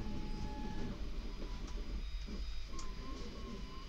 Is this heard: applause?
no